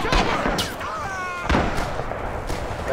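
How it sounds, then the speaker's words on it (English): Artillery strike in the war shooter Rising Storm, a busy battlefield din of booming impacts and sharp gunfire cracks, with a couple of heavier blasts standing out over the continuous rumble. "Artillery's inbound"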